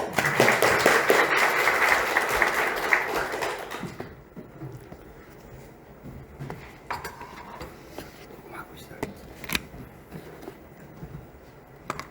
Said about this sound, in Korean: 우리 목사님 나오실 때 큰 박수로 환영해 주시겠습니다